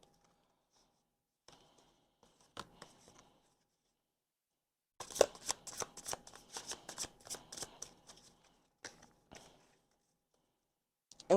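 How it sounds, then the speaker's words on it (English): A tarot card deck being shuffled close by: a few soft taps and riffles, then a longer run of quick crisp card flicks, with quiet gaps between. "Gonna finish shuffling these all the way through real quick."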